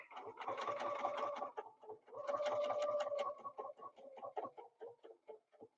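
A sewing machine stitches a quilt block in two long whirring runs, then a series of short stuttering bursts, close and clear with no talk over it.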